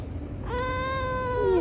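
A stray cat begging for food lets out a single drawn-out, rising meow, close and clear over a low background hum, with no voices present.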